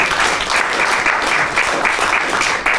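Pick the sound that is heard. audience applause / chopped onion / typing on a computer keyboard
audience applause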